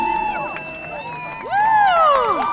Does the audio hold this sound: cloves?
no